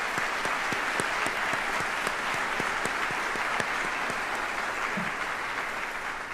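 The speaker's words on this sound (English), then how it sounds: "And a round of applause, please," Large audience applause for guests at a military retirement ceremony, a steady roar of many hands clapping that holds evenly at a moderate distance, with individual claps popping out near the front.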